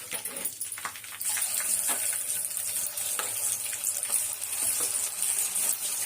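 Masala-coated chicken frying in hot oil, a continuous bright sizzling crackle that grows steady and loud after the first second, with a few faint knocks in the background.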